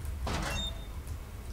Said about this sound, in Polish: Pootwieramy to, ale wydaje mi się, że raczej nic tutaj nie znajdę.